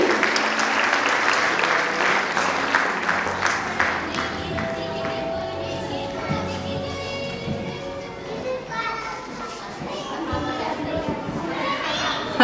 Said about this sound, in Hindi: जोरदार तालियां गरिमा मैम के लिए।